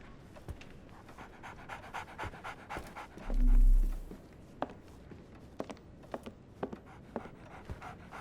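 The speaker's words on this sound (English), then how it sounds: "So, Barnes has a dog now." A dog panting steadily in the video game Sherlock Holmes The Awakened, a quick rhythmic breathy pant at close range with light taps and clicks throughout.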